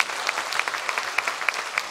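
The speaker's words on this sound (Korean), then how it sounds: "진정한 풍각쟁이들에게 박수 한번 보내주세요" Crowd applause at an outdoor cherry blossom festival performance stage, a brisk, fairly close patter of clapping with a few sharp individual claps standing out.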